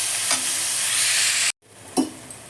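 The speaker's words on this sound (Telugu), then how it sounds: "ఉల్లిపాయలు వేగేంత వరకు మనం వెయిట్ చేద్దాం" Onions frying in a pan with half a spoon of salt. A loud, steady sizzle lasts about a second and a half, then drops sharply to near silence, leaving a brief scrape and a faint, quieter hiss.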